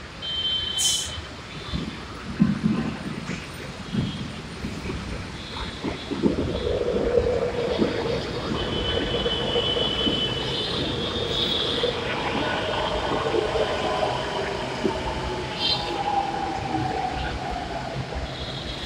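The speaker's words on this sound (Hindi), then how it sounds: "ये बिल्कुल मेट्रो हमारे सामने आ चुकी है" A metro train rumbles in steadily, with rising and falling tonal whines as it pulls closer over a continuous roar.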